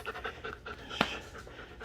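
A dog pants close by in a workshop that sells a CNC milling machine, with quick rhythmic breaths that peak in one louder huff partway through.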